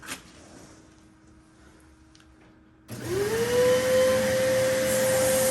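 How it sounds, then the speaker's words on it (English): Quiet room tone, then a vacuum cleaner for cleaning a 3D printer enclosure switches on abruptly and whines up to a loud, steady roar close by. "I turn the vacuum on"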